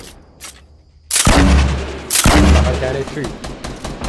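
Bursts of close gunfire in Fortnite, two loud heavy volleys roughly a second apart followed by scattered rattling shots, with a player speaking briefly over the quiet start.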